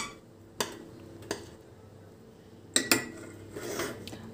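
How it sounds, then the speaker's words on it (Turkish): A spoon stirs thick vanilla custard pudding in a pot, making a few sharp metallic clinks against the pot spread across the stretch, with soft scraping between them and no voices. "Karıştırmaya devam ediyoruz"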